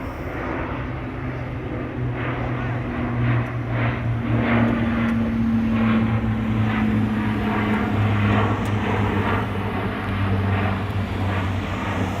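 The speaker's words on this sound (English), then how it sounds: "Airplane." A fixed-wing propeller airplane passes overhead, a steady, continuous drone with low engine hum that stays fairly loud and even throughout, no voices over it.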